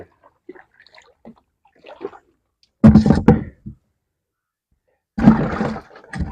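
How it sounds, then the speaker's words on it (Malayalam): Pearl spot fish dropped into water throw up two separate bursts of close, loud splashing, each lasting about a second, with near silence and faint background bits between them. "അതിനകത്ത് കിടന്ന് ചാടുമ്പോൾ വെള്ളം തെറിക്കും."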